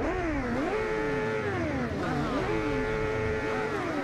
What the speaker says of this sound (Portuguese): Aquele corte de giro.